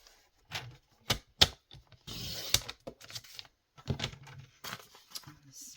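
Scissors cutting junk mail paper for a collage, irregular snips and rustling paper handled up close, with brief pauses between cuts.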